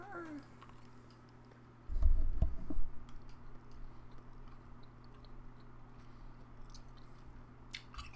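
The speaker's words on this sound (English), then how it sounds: "I won't be chewing gum throughout the whole thing" Chewing gum close to the microphone, soft wet mouth clicks and squishes repeating irregularly, with a louder burst of chewing near the middle over a low steady hum.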